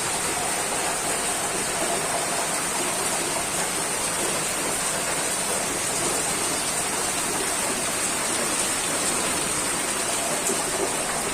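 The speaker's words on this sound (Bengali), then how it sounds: "ঝমঝম করে বৃষ্টি নেমেছে, ঝমঝম করে বৃষ্টি পড়ছে" Heavy rain pouring down steadily during a hot spell, a dense, continuous hiss of downpour close by that stays level throughout with no voices.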